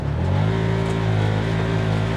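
A 2024 Can-Am Commander MAX XT-P V-twin engine at full throttle in high two-wheel-drive sport mode, a loud close steady drone with rising harmonic tones as it pulls, without speech.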